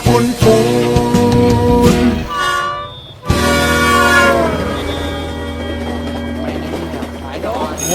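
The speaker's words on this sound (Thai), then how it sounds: "รถไฟมาแล้วนะเด็กๆ" A loud, sustained train horn blares over heavy rumbling rail noise, nearby, and then continues more softly as the train keeps moving.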